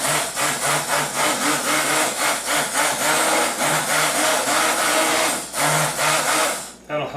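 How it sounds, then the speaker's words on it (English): Blender whirs steadily while mixing heavy cream into potatoes, a grinding motor hum pulsing in short rhythmic strokes at close range, with a voice talking over it. "I'm just going to use my blender just to incorporate that."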